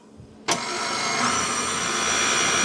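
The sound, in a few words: electric beater whisking ice cream mixture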